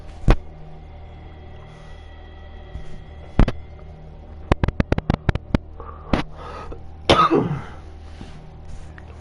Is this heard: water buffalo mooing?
no